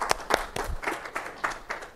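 A small audience gives a short round of applause: only a few people clapping, about eight sparse, uneven claps in two seconds, fairly close and moderately loud.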